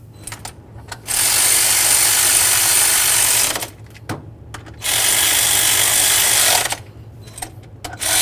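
Two long bursts of a power tool, probably an electric ratchet or impact driver, tightening the power steering pump bracket bolts on a 2007–2013 Chevrolet Silverado 1500 with a 5.3L V8, each steady whir lasting a few seconds with short pauses between.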